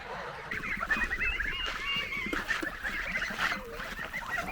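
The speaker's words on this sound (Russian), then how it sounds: "Так, гуси пошли уже за тобой, маленькие." A flock of geese, including young ones, honking continuously, many overlapping calls close by, with a busy farmyard rustle underneath.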